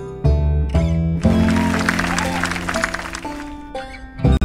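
A burst of crowd applause lasting a couple of seconds in a game scene in My Time at Sandrock, set between bright synthesized musical chords.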